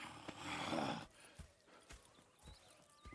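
Horses in the video game Red Dead Redemption 2, a burst of hoof clip-clops and a snort or whinny up front, followed by scattered quieter hoof steps and stamping at moderate distance.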